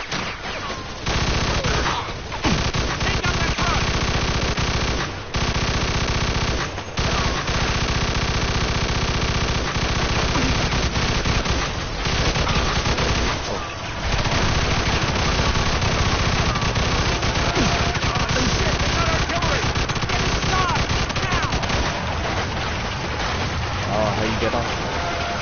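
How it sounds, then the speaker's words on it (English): Sustained machine gun fire in the Mafia II video game, loud and nearly continuous with brief breaks, under dense background noise and voices talking. "Get on that machine gun!"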